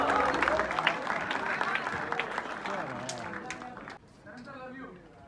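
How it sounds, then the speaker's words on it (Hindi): Crowd at the Dhadak 2 film trailer launch claps and cheers over amplified voices, a loud dense roar of applause that drops abruptly near the end to a thinner patter under talk. "लेडीज एंड जेंटलमैन, जोरदार तालियां"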